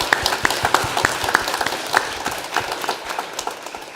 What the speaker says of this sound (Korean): 영광 받으실 주님을 향해 찬양과 감사의 박수로 우리 마음을 드립시다.